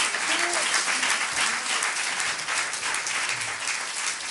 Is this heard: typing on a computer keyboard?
no